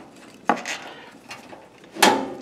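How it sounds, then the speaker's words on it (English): A small fresh-air flapper door on a fireplace being turned closed by hand, giving a few short, light knocks and scrapes of metal and wood close by, with the last one the loudest. "This little flapper door you turn."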